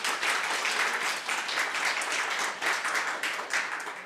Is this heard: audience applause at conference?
yes